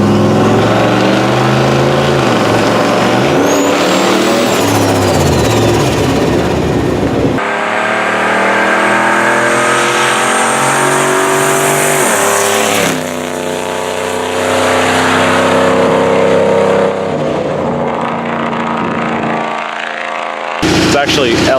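A turbocharged, LS-swapped Winnebago motorhome engine runs loud and close, its throbbing idle and rev changes rising and falling under ongoing conversation, with an abrupt cut near the end.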